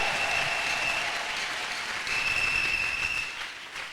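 A church congregation applauds steadily in a dense, sustained wash of clapping that swells slightly midway and continues without pause to the end.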